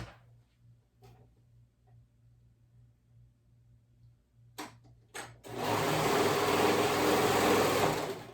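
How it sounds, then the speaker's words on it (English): A sewing machine runs at steady high speed joining the raw edges of a kids' cardigan, starting after a few faint clicks and handling noises and whirring loud and close for the last few seconds. "I'm going to turn it right sides together and I'm going to sew these together."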